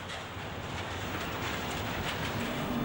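A class 155 electric locomotive pulls its train out past a waiting tank wagon train, giving a dense, continuous rumble with clattering wheels that stays close and steady throughout.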